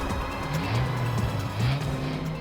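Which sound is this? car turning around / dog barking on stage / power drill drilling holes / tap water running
car turning around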